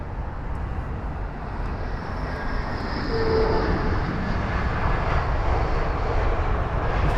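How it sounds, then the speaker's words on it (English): A jet airliner touching down at London Heathrow in gusty winds, reverse thrust building as a loud, steady engine roar that swells midway and holds, heavy with wind rumble. "just getting the aircraft down, the reverse thrusts will be activated upon touchdown"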